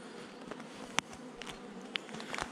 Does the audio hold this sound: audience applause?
no